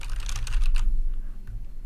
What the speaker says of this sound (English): And I've got a mechanical keyboard.